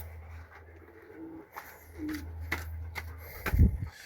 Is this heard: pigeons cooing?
yes